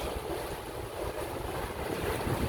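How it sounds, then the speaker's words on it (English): A houseboat crossing open estuary water makes a steady rushing wash of water, with wind buffeting the microphone throughout at a moderate, even level. "we're in a houseboat in the middle of the estuary going across the Boundary Island"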